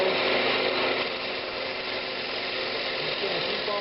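Steady broadband rasping hiss of rough sanding on a walnut hollow form spinning on a woodturning lathe, continuous and even throughout with a constant motor hum underneath.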